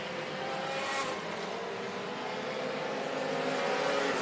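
Four-cylinder Sport Compact race cars run a dirt oval at Davenport, Iowa, their engines a continuous loud roar with rising and falling revs as the pack circles, no voices over it.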